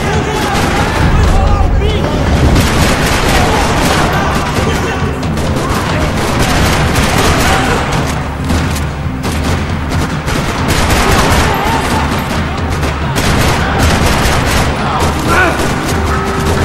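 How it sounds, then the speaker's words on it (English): Dense gunfire rattles through a parking lot in the video game Max Payne 3, with rapid bursts, booming shots and continuous loud crackle throughout. "Another parking lot rattling with gunfire."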